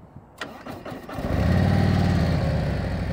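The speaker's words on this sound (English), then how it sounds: "That's how you start a Harley-Davidson." A 2024 Harley-Davidson motorcycle engine starts with a short cranking whir, then catches and settles into a loud, steady, deep rumbling idle close by.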